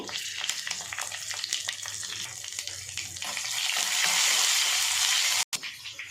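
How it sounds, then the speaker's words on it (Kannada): Mustard seeds, dried red chillies and asafoetida crackle and sizzle in hot oil for tomato rasam tempering, a bright hiss that swells louder toward the end and then cuts off briefly. "ನೋಡಿ ಫ್ರೆಂಡ್ಸ್ ಈಗ ಒಗ್ಗರಣೆ ಹಾಕ್ತಾ ಇದ್ದೀನಿ"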